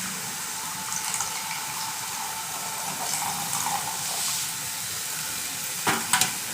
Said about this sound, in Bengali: ঘি দিয়ে ভালো করে ভেজে নিয়েছি, এবার ওর মধ্যে দুধ দিয়ে দিচ্ছি।